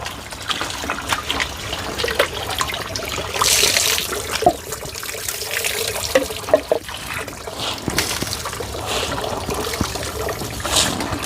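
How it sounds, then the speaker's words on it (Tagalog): Running water poured and splashed over feet to rinse off dirt at an outdoor washing spot in a forest, a steady close trickle with intermittent splashes throughout. "luglugan mo yung paa mo para hindi magbakat doon pag papasok ka sa taas"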